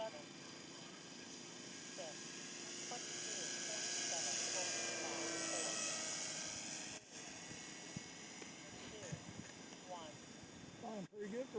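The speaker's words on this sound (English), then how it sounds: "Flying pretty good for a brand new plane." An electric radio-controlled HSD Cessna 182 scale model airplane, 2000 mm span on 6S power, flies overhead as a steady motor whine that swells louder around the middle then recedes, with outdoor ambience and people talking.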